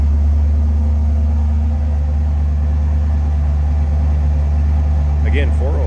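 A 1979 Pontiac Firebird Trans Am's 403 engine with automatic transmission idles smoothly and steadily, a low, even rumble close by, with a brief voice near the end.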